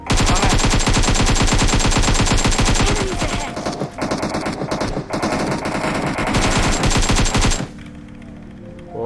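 An SLR rifle fires in a video game: a loud, dense burst of rapid shots runs almost nonstop for about seven seconds, then cuts off abruptly into quiet.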